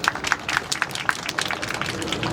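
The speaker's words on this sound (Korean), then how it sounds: "큰 박수 부탁드립니다." Audience clapping at a fringe musical performance of Le Masque in Daehangno, a steady, dense patter of many hands with a faint repeating tonal blip running through it, moderately loud and continuous throughout.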